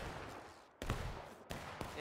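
Musket volleys from a War of Rights historical event in the woods crack out at intervals, a few sharp distant reports with rumbling tails, under steady ambient noise and occasional voices.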